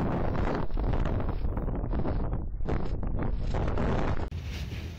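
Strong wind gusting over 60 mph at an off-grid homestead roars and howls continuously in loud, buffeting gusts, with heavy rumble against the microphone and no voices.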